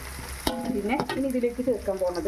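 Masala for chicken madhooth fries in a hot pan as a spoon scrapes and stirs through it, giving a close crackling sizzle under a person speaking.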